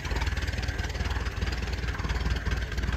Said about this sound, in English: And there you go, running like a clock.